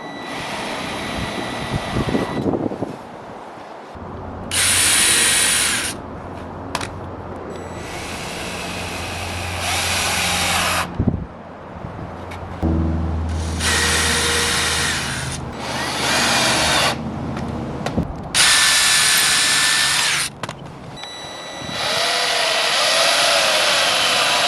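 Power tool driving screws into a woodstove's wall frame during installation, heard as repeated loud whirring bursts separated by short pauses, close by, with no talk.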